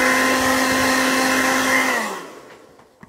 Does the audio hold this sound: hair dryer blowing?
yes